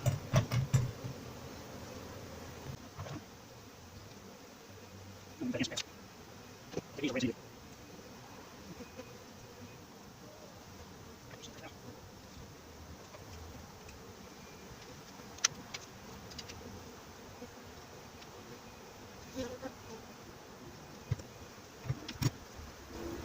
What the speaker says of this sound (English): I've got bees crawling up the inside of my pants